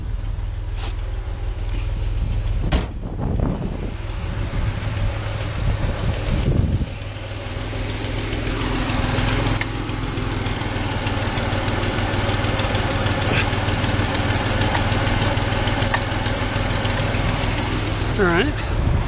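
A carbureted 1981-85 Ford Mustang engine idling near 800 RPM, a steady low mechanical rumble heard close up for the whole stretch, with a few brief clanks and some tool noise over it.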